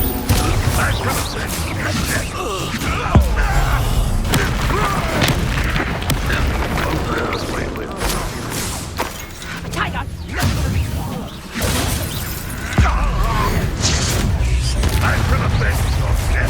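Spell blasts from Hogwarts Legacy combat, Confringo fire bursts and Depulso force pushes, a dense run of booming impacts, whooshes and crashes hitting one after another at close range with shouted voices mixed in.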